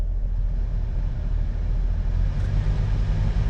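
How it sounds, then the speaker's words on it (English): Steady low whooshing hum of a 2003 Grand Caravan's air conditioning fan blowing at full blast, constant and close, with a faint engine rumble underneath. "Let's turn the AC on."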